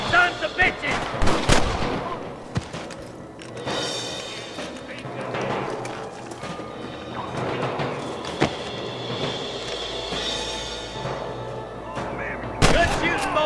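Western shootout in Red Dead Redemption, with scattered loud gunshots and rifle cracks ringing out over train rumble and background noise, while voices shout now and then.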